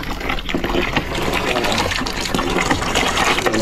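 A hand pump draws water, producing a steady, loud gushing flow with rhythmic sloshing pulses from close by, with no talking.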